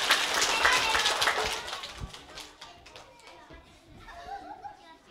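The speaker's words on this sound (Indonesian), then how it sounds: "tepuk tangan semuanya" Young children and the watching audience clap at a kindergarten talent show, loud at first and then thinning into scattered claps, with children's voices and chatter mixed in.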